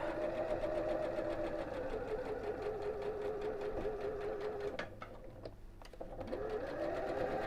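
A sewing machine stitches fabric around a curved flap with a fast, steady mechanical whirr. The run pauses briefly near the end and then starts again. No one talks.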